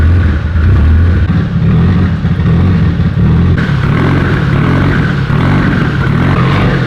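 A tuned Mitsubishi Evo 8 with an upgraded fuel system idles after startup, a loud, close, steady low engine rumble with a slightly uneven lope, running continuously with no voices.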